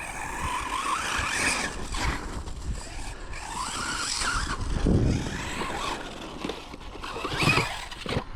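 A Hobao 10 TT 2.0 RC car with a 4250kv motor braking and skidding on a track, whining motor and tire scrub rising and falling in several bursts, fairly close and loud.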